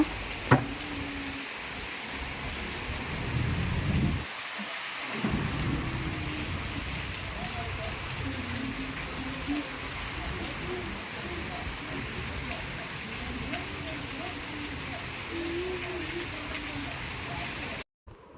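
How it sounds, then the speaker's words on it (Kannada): The year's first rain pours steadily outdoors, a dense continuous hiss of drops on surfaces with faint background birdsong; no distinct thunderclap stands out. "ಹೊಸದಾಗಿ ಫಸ್ಟ್ ಬಂದಂತಹ ಮಳೆ ಈ ವರ್ಷದಲ್ಲಿ"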